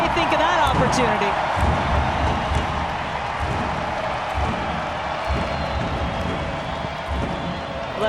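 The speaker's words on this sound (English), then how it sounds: "The crowd tells you what they think of that opportunity." A big stadium crowd at the 2018 NWSL Championship soccer game, North Carolina Courage vs Portland Thorns, roars steadily over a corner kick, a dense continuous wall of noise with commentary running over it.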